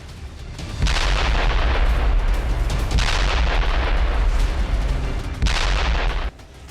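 War footage from the Russia–Ukraine conflict carries loud, heavy artillery and gunfire: deep booming bursts that swell and roll on in long waves, close and dominant, with no talk.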